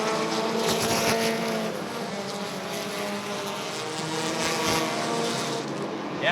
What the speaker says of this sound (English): Pearson doing a good job of staying pace with that smoker car, but it's Foster that's trying to chase Brockman right now